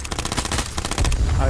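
Rapid, loud shotgun and gunfire bursts crack in quick succession during a video game firefight, dense and close, with a voice briefly under the shots.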